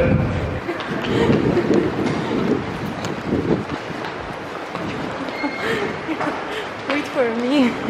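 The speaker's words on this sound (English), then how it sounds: "This is subway." A subway train rumbles and clatters loudly nearby while people talk over it, with rushing wind noise and a rising whine toward the end.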